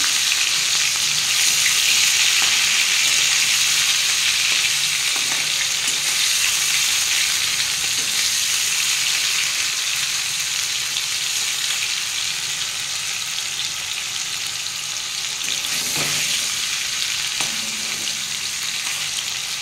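Paneer pieces frying lightly in hot oil, a dense, steady, close sizzle that holds evenly throughout, with an occasional faint clink of stirring and no voices.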